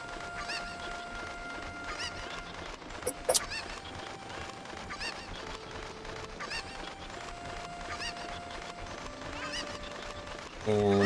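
Cuckoo chickens in Zelda: Ocarina of Time cluck in a steady scattered chorus of short squawks over background game music, with a brief louder burst partway through.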